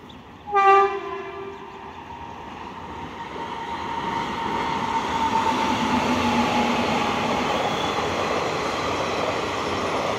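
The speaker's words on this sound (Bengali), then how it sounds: "এটা 5 নাম্বার লাইন দিয়ে এই থ্রু ট্রেনটা যাচ্ছে" The Balurghat–Kolkata Tebhaga Express, a through train, runs along line 5 past a station. A sharp horn blast opens, then a steady, loud rumble of wheels and carriages holds to the end.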